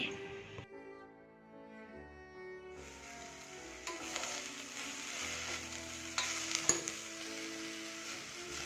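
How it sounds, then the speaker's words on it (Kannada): A quarter kilo of chopped bitter gourd fries in a pan for a palya. A soft tonal background gives way to a steady, close sizzle that continues to the end, with light stirring noises. "ಕಟ್ ಮಾಡಿರುವಂತಹ ಕಾಲು ಕೆ ಜಿ ಹಾಗಲಕಾಯನ್ನು ಹಾಕ್ಕೊಂಡು ಒಂದು ಐದು ನಿಮಿಷ ಚೆನ್ನಾಗಿ ಫ್ರೈ ಮಾಡ್ಕೊಳ್ತೀನಿ"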